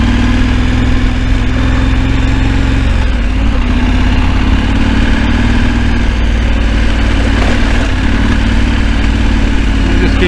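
A KTM 1290 Adventure motorcycle chugging at low revs up a dirt track, its loud, steady engine drone running throughout with constant wind rumble.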